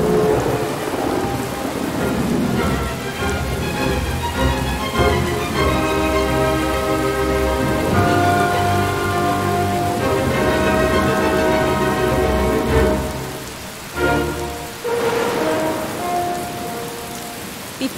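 Heavy rain pours down steadily and loudly in a dense, continuous wash, with deep rumbles of thunder rolling through beneath it over the whole stretch.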